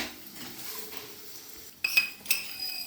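A spoon dropping chana dal and urad dal into a pan, a few quick metallic clinks and a brief rattle of grains after a quiet start, close and soft, no speech.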